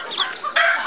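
A chicken clucks loudly and close, a short run of throaty calls that rise into a sharper squawk near the end.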